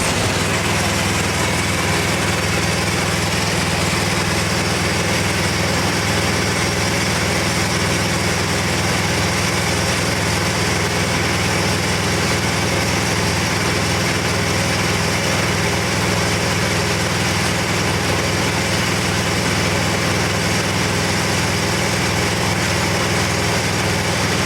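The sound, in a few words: machine running during chemical injector test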